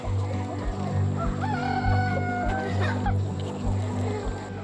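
Chickens cluck and a rooster crows on a hillside farm raising thousands of birds, a busy, fairly close flock chorus with repeated crowing rising over a steady hum.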